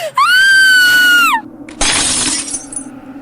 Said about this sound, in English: trying to smash the mirror, but as the shards fell to the floor